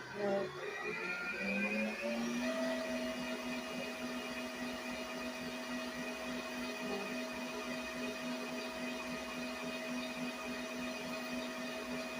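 An electric mixer whirs steadily through breakfast ingredients for a make-ahead Christmas breakfast dish, a continuous close motor drone with a rising pitch at the start settling into a constant hum.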